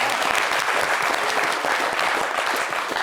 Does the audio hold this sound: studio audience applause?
yes